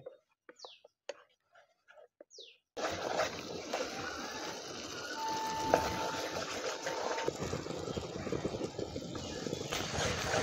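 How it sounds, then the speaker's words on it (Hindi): Spice paste for a Rajasthani black chickpea curry, made without garlic or onion, fries in a pan while it is stirred. After a quiet start, a loud steady sizzle begins with scraping under a voice. "मसाले को निरंतर चलाते रहेंगे और मसाले को हम तब तक भूनेंगे"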